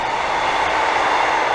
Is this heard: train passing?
yes